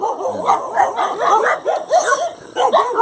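A dog barks repeatedly in short, yappy bursts with a few whimpering yips, fairly close and loud, heard during an outdoor run.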